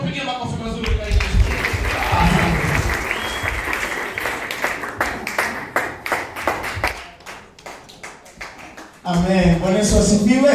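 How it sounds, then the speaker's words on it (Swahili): A church congregation in Eldoret gives a round of rhythmic clapping and applause for Jesus during worship, loud and energetic, tapering into sparse claps before voices resume over the crowd. "Sisi tupigie makofi mazuri kwa Yesu."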